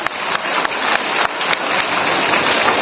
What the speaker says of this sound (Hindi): सारे बच्चे ताली बजाएंगे।